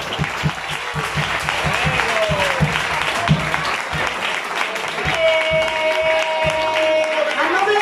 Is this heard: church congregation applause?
yes